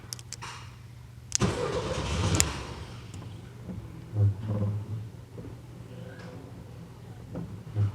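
A 1979 VW Super Beetle with fuel injection, parked for years and fed stale fuel through a weak pump, cranks with a sudden loud burst, then sputters roughly as it tries to catch. Its uneven engine noise fades into an intermittent idle-like rumble.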